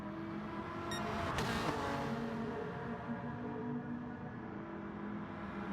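A Honda NSX race car in a racing video game, its engine droning steadily and loudly throughout, with a brief surge of louder, rising revving early on.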